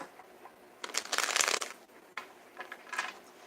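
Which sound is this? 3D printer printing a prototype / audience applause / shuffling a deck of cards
shuffling a deck of cards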